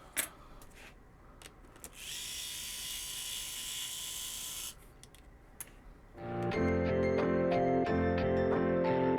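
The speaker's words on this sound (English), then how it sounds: "we can take out all of the screws, all Phillips head." A screwdriver or small power driver works loose the Phillips head screws on an HHKB keyboard during a rebuild: scattered clicks, a steady whirring buzz for a few seconds, then a denser rattling run of metallic ticks close by.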